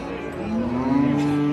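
A cow moos in one long, steady, fairly loud call at a busy livestock market where cows and calves are sold, with a murmur of background noise underneath.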